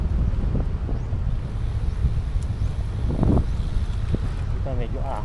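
Wind blows into the microphone while riding the UP Loop, a steady low roar throughout, with someone talking over it.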